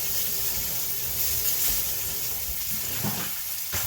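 Liver and onions frying in a pan, a steady close sizzle and hiss that runs without break, with faint stirring scrapes near the end.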